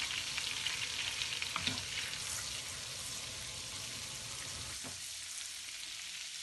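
Melted butter with mint poured into a pot of sour meatball stew, giving a soft, steady sizzle and bubbling hiss at low volume that fades toward the end.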